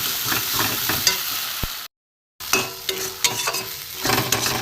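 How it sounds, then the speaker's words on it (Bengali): Drumstick leaf mash with fried dried chillies being stirred in a pan, a steady sizzle with scraping strokes broken by a brief silent gap, close and moderately loud, with no talk. "দিয়ে আমি একটু নাড়বো"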